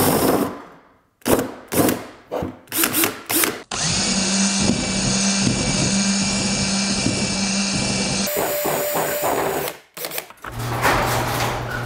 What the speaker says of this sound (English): of course a drill, because I will have to drill stuff